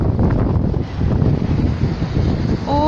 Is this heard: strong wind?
yes